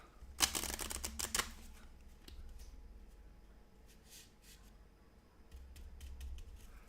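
Cards from the Comancheria board game culture deck are riffled in quick, crisp bursts close up, followed by softer handling and shuffling sounds in a quiet room.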